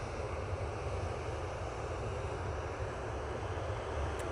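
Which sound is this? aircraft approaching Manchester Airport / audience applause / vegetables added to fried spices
aircraft approaching Manchester Airport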